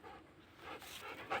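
A dog pants steadily outdoors at a forest overlook beside an oak grove, the quick breaths close and moderately loud over a soft open-air background.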